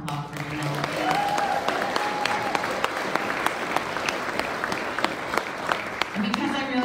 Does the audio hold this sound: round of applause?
yes